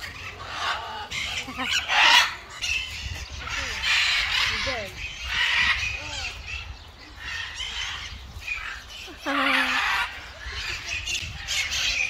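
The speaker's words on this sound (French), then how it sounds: "C'est les perroquets verts et rouges" Green and red parrots squawk at a zoo, harsh calls recurring through the stretch at close to moderate range, with people talking now and then over the birds.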